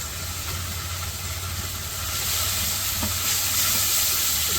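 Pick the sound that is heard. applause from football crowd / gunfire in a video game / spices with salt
spices with salt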